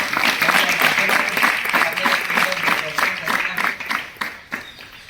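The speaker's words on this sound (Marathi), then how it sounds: "त्याच्यासाठी पण आपण टाळ्यांचा गजर करूया" Applause from a crowd of devotees at a temple Rath Yatra festival at a Swaminarayan temple, a dense, loud burst of clapping that gradually thins toward the end, with voices mixed in.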